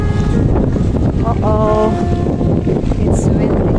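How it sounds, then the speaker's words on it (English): Strong wind at a seaside country park, buffeting the microphone in a constant low roar, with a brief tonal sound and a faint voice in the middle. "So we are here now in the seaside. It's quite windy."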